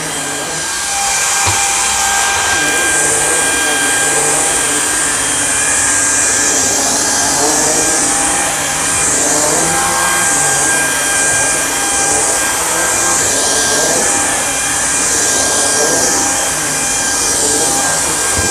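A Samsung Jet VS70 stick vacuum cleans a stair carpet with a loud, steady, high-pitched whirring hum close by. It runs unbroken for the whole stretch with no talking.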